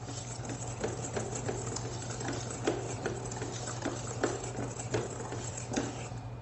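A stand mixer fitted with a whisk beats cake batter, giving a faint, steady motor hum with soft rhythmic ticking and patter as the whisk turns.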